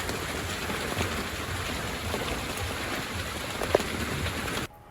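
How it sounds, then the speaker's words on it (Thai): Steady rain pouring down at a fishing pier in Hua Hin, Thailand, a dense even hiss with one brief sharp knock near the end before it cuts off, no voices. "เดี๋ยวไว้ไปใหม่รอฝนหยุดก่อนนะครับ"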